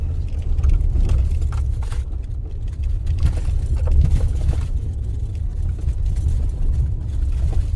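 A V8 Dodge Ram Hemi rental truck in 4-wheel drive runs across a beach, its engine a steady, close, loud low rumble throughout with no talking.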